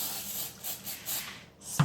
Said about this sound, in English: So get yourself cooking spray. We're going to give that a quick